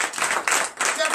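A congregation at a Benin morning prayer service claps in acclamation, a short burst of dense, overlapping handclaps that swells, dips briefly and resumes.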